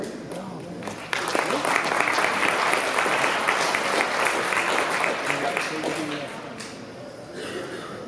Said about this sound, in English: So I think that's just a round of applause.